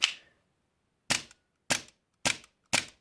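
Five sharp pops from a Stark Arms Glock 42 gas airsoft pistol, one shot then a pause followed by four quick shots in a steady rhythm, each crisp and close with a short tail.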